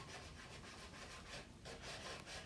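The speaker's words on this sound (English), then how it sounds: "I'm going to sand the bottom where I got some newspaper stuck on it" Sandpaper works the bottom of a painted wooden Christmas decoration where newspaper has stuck, making soft, quiet back-and-forth rasping strokes in a steady rhythm, close by and alone.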